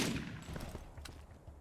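Shotgun blasts in the video game Borderlands, a loud sharp report at the start followed by a few fainter gunfire bursts and clicks.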